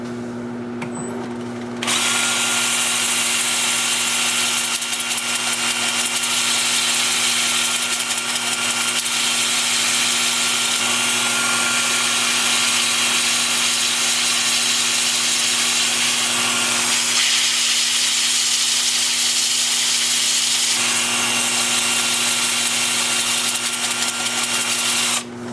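Steady whirring hum of a wood lathe spinning a turned piece while it is sanded up through 400 grit, continuous and close with a constant motor drone and faint rubbing texture.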